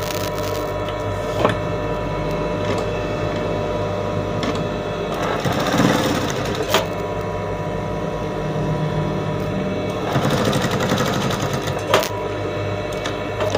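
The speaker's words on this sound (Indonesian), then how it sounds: "Kemudian kita jahit yang halus di sini." Sewing machine stitching curtain fabric with a steady, close mechanical whirr that runs throughout, punctuated by a few brief clicks and short surges in speed.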